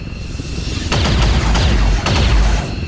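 Gunfire from the XCOM video game, a soldier shooting at an officer: a few loud booming shots in quick succession over a steady game background rumble.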